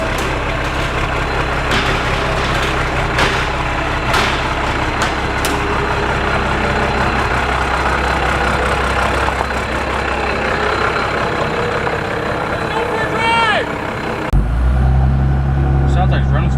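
A Ford truck swapped to a Cummins diesel and fitted with a bigger turbo runs at a steady, heavy idle, close and loud, with a rough low rumble and a brief shift in tone near the end.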